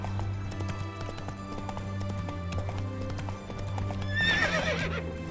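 Geralt's horse Roach in The Witcher 3 galloping with steady clip-clop hoofbeats over a game music bed, then letting out a loud neigh near the end.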